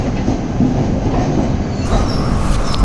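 The Tirumala Express passenger train rumbles steadily from inside the coach, a loud continuous rolling roar of wheels on rails with a faint metallic squeal entering toward the end.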